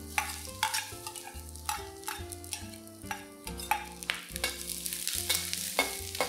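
Garlic, ginger and onions stir-fry in hot oil for a sea cucumber dish, with a steady sizzle broken by repeated brisk spatula scrapes and tosses against the wok, close and lively.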